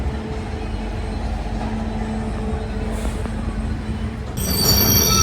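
Heard from inside a passenger train travelling from Mumbai to Ratnagiri after leaving Apta station, a steady rolling rumble with a faint hum continues throughout, and a shrill metallic squeal cuts in near the end.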